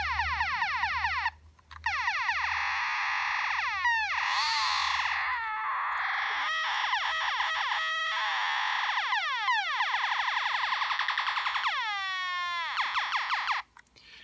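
A Korg Monotron analog synthesizer whines with a loud, buzzy tone whose pitch wobbles up and down in siren-like sweeps, the oscillation rate and pitch shifting throughout, with brief cut-outs.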